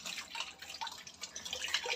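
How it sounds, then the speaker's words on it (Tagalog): Faint tap water running into a kitchen sink for washing dishes, a soft, uneven trickle and splash heard alone at a modest distance. "ako ay maghuhugas muna ng pinggan"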